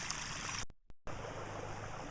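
Water pouring steadily over a weir near a hut and waterwheel, a dense continuous rush with a brief cut to silence partway through.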